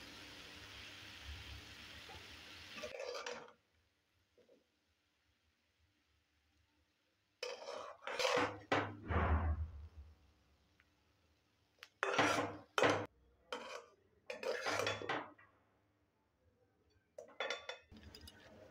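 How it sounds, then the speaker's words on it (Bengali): Dishes and a serving spoon clink and scrape as fried potato and onion-stalk fritters are lifted from a pan onto a plate, coming in short, close bursts of clatter separated by quiet pauses. "আর একটা প্লেটের মধ্যে তুলে নিচ্ছি।"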